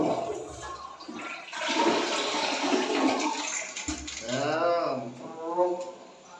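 A toilet in a newly built bathroom flushes with a loud rushing surge of water close by, and someone speaks over the draining swirl and refill.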